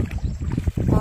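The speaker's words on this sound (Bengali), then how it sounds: "তাড়াতাড়ি কিন্তু নৌকাটা বেয়ে দিচ্ছে" A wooden boat is rowed through a narrow tidal creek in the Sundarbans mangrove forest, giving a low, close, churning rumble of water and hull movement over a brief moment.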